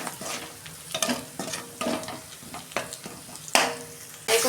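Spice masala with tomato being stirred and fried in a pan, giving a soft continuous sizzle broken by repeated scraping strokes of the spoon, close and fairly quiet.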